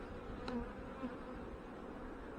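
Honey bees hum steadily around an open hive in the fireweed area, a low continuous buzz with one insect passing close for a moment.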